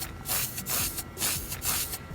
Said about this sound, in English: I'm quite happy with a can of spray paint in my hand.